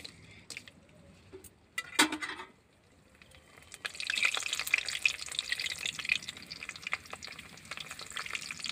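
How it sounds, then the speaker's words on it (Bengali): Papad frying in hot oil in a home kitchen, right after a batch of eggplant fritters: a steady, dense sizzle and bubbling that swells after a quieter start with a few soft clinks, then continues loud and close. "এখন পাঁপড়গুলো ভেজে নিচ্ছি"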